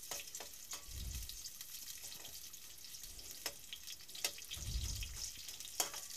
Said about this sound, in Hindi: ये देखिए प्याज फ्राई हो रही है।